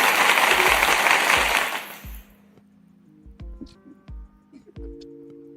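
A warm round of applause from a livestream podcast audience. It is loud and dense for about two seconds, then fades quickly into scattered faint taps and quiet.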